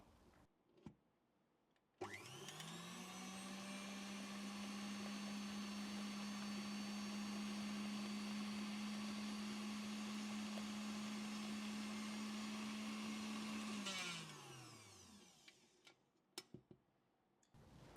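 Electric mixer beating eggs and sugar at high speed for tiramisu cupcakes, a steady loud motor whir lasting about twelve seconds before spinning down, with a few clicks and knocks before and after.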